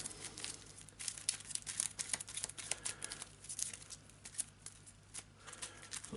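Sleeved game cards in sandwich sleeves being shuffled for an Arkham Horror card game make soft, quick plastic crinkling and riffling patters that repeat in quiet bursts close by, with no talking.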